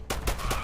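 A burst of rapid gunfire, three or four loud shots in quick succession with a booming low end, from a junk gun in the video game Fallout Shelter.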